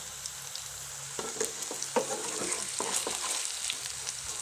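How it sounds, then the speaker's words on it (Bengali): Lentil pakoras fry in a pan, giving a steady close hiss of hot oil with bursts of crackling sizzle and occasional scrapes as the pieces are stirred, with no talk over it. "চলছে ভাজা"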